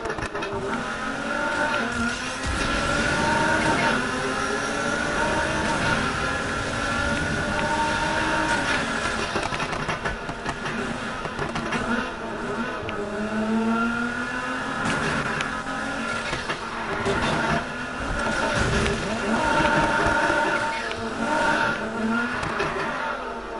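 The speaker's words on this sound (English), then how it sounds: "Hear that turbo sound?" A turbocharged race car engine in the Need for Speed Heat video game roars loudly and steadily, its pitch sweeping up and down with gear changes over about twenty seconds, with tire squeals mixed in.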